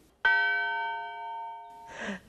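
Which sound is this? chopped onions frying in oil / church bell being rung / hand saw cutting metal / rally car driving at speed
church bell being rung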